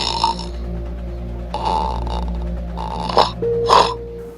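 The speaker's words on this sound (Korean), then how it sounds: "코골이 소리 들어보자!" Human snoring, a recording from a sleep-health campaign on snoring and apnea: rough, rattling breaths in a slow repeating rhythm, close and loud with no talk over them.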